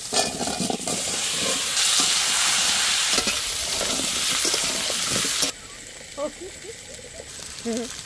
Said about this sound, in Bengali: ওই তেলের মধ্যে আলু দিয়ে দেবো।